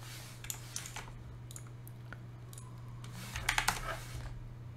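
Quiet keystrokes tap on a computer keyboard while entering terminal commands, scattered single clicks followed by a quick cluster of typing near the end, close and faint over a steady hum.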